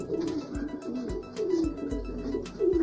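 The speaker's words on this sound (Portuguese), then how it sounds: "Já tem um bocadinho de pomba aí já" Domestic pigeons coo in low, rolling phrases that repeat every second or so, close by, with soft thumps and rustling underneath, in a pigeon loft.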